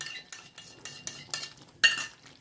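Cashew paste stirred into paneer gravy in a clay pot: a spoon scrapes in short, evenly spaced strokes, about five quiet passes and then one sharper, louder clink near the end, with no talking.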